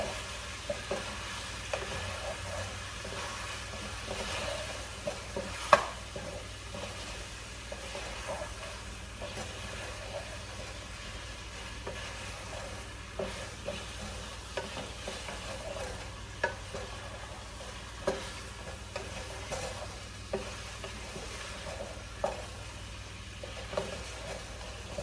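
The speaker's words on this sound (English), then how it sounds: "All right, so I have to keep stirring this" Oxtail fries in a pot with a soft, constant sizzle while a utensil stirs it, scraping and clinking at irregular intervals against the pot for a long stretch.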